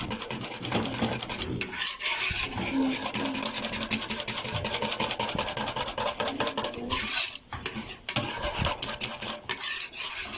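Spoon stirring fenugreek in a cooking pot while making a sweet fenugreek dessert, a steady close scraping and rubbing sound that continues throughout with brief pauses.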